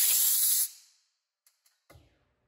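Air blasts through a valve after its needle and luer lock are removed, a loud close hiss lasting under a second that tapers off, followed by a few small clicks and a soft knock.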